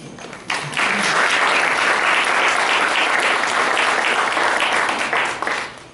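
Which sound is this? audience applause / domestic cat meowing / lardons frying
audience applause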